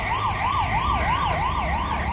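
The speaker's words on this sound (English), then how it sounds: "It's the sound of the police." A police siren wails loudly in a street near Parque Cristobal in Playa de las Americas, Tenerife, its pitch rising and falling in a steady cycle of about three sweeps per second, close and continuous, with no talking.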